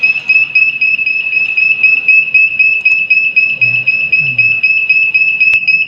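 A steady, high-pitched electronic beeping alarm from a computer-controlled gas cylinder hydrostatic test machine pulses rapidly and continuously, close and prominent over faint background noise.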